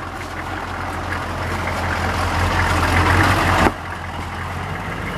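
A four-wheel drive vehicle's engine rumbles steadily and close, with a low drone that builds gradually before a sharp knock, then settles back to a quieter idle.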